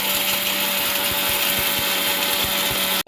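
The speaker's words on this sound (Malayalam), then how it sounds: "ഇനി നമുക്ക് ഒരു പ്രാവശ്യം കൂടെ കുറച്ചും കൂടെ പൊടിച്ചെടുക്കാം" A mixer grinder runs steadily, powdering tapioca finely for puttu, its motor whirring with a rough, constant whine and faint rattling from the jar, then stopping abruptly at the very end.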